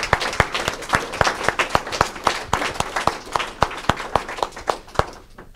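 Warm applause at a tribute gathering celebrating a 102-year-old woman's life, with loud, distinct claps in a regular rhythm over a softer crowd wash, ending abruptly.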